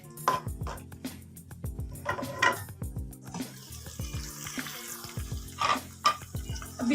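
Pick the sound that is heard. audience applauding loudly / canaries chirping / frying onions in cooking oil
frying onions in cooking oil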